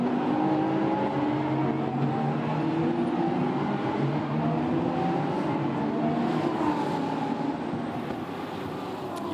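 Lamborghini Super Trofeo race cars follow the safety car out of La Source at Spa, engines droning steadily at moderate revs in a continuous, fairly loud pass with shifting tones.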